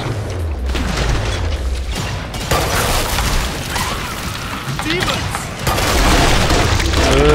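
Heavy booming grenade blasts in Killing Floor 2 co-op combat, several loud thumps amid constant gunfire and chaotic game noise, with players talking over it.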